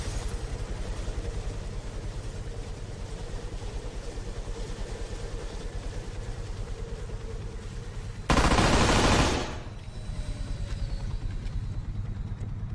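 Steady, rapid gunfire from the video game Arma 3 runs throughout the clip, with one loud, harsh blast of noise lasting about a second near the two-thirds mark.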